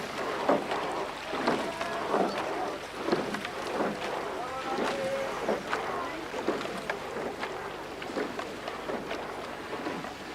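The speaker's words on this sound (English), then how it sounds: "Just getting a wee bit too much boat noise from the double sculls there" Double sculls rowing in a regatta time trial, with rhythmic oar strokes and splashes repeating roughly every second, fairly close, under a commentator's voice.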